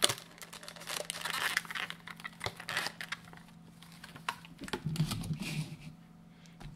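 Packaging crinkles and rustles as a Profi Cat laser chain aligner is unboxed, with scattered plastic crumpling, tearing and small clicks at close range and no talk.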